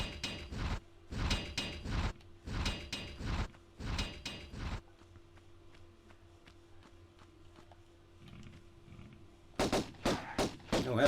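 Magnum pistols fire in the 1996 Tomb Raider game: sharp shots come in quick repeated pairs, then a quiet stretch with faint ambient noise, and then more rapid shots.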